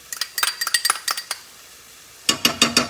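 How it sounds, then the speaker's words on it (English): A spoon clinks and scrapes against a pan as tomato paste is stirred into other ingredients for Amatriciana pasta sauce. Quick bursts of metallic taps are followed by a short quiet gap and then another flurry. "I'm going to stir it into the rest of our ingredients and fry the tomato paste up a little bit."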